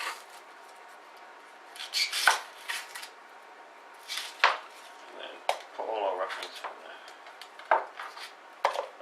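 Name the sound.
knife cutting the ends off an onion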